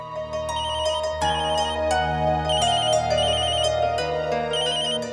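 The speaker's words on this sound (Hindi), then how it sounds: "बज रहा है फोन" A phone ringtone plays steadily and loudly, a repeating electronic melody with no one speaking.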